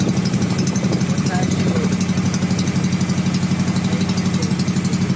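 A boat engine runs steadily on an island-hopping trip around Guimaras, a loud, close, rhythmic mid-pitched throb with a constant vibrating pulse throughout.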